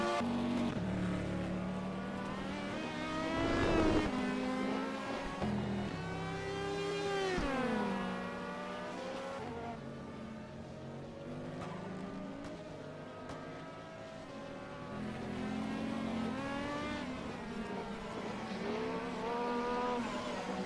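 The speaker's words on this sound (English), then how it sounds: "Seko Bulwa chases down Caruso through the chicane" Race cars in an Imola endurance racing video game roar through a chicane, several engines layered with rising and falling pitch sweeps as they brake and accelerate, loud and continuous throughout.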